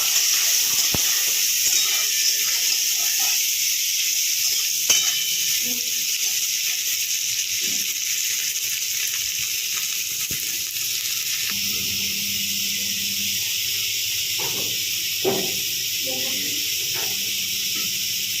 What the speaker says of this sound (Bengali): আলুটাকে খুব ভালো করে ভাজা করবো